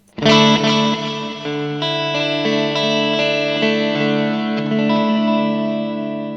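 Electric guitar chords ring out through delay and reverb effects, with spacious reverb and repeating delay echoes, the notes sustaining and blending into a washy tail.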